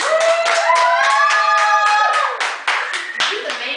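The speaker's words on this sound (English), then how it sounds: "round of applause, guys." A small group claps and cheers after someone eats a scorpion lollipop, the applause steady and close for a few seconds with voices calling out over it before it tapers off.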